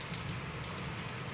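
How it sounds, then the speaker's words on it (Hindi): Heavy evening rain pours down in a dense, steady hiss with a soft low patter beneath, continuous and fairly close, with no voices. "कितनी ज़ोरों से बारिश पड़ रही है"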